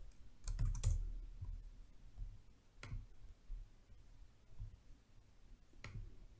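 Sparse clicks of typing on a computer keyboard, a burst of quick taps near the start and then isolated keystrokes at intervals, close and fairly quiet against a low room hum, with no talking.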